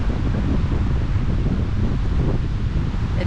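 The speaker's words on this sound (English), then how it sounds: "watching this wind come in and the storm clouds roll over" Storm wind gusting over a small wilderness lake in the Boundary Waters, a steady loud rushing roar buffeting the microphone with a continuous low rumble and no pauses.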